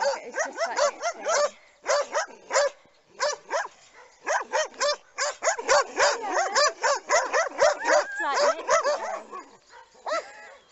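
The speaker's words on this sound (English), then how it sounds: "Barks even more." A dog barks repeatedly in quick bursts, close by, with short yips between the barks and brief pauses.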